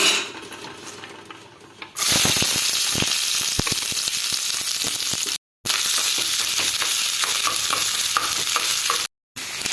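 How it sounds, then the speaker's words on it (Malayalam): Coconut and sesame seeds being fried in ghee in a pan for Kerala-style sweet idli, with a steady loud sizzle and repeated scraping stir strokes, briefly cut off twice. "ഒരു പാത്രത്തിൽ കുറച്ച് നെയ്യൊഴിച്ച് തേങ്ങയും എള്ളും ഒന്ന് മൊരിച്ചെടുക്കും"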